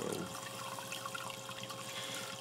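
Water runs and trickles through a blue bowl gold concentrator, a soft steady flow with light splashing, faint and close, alone with no talk.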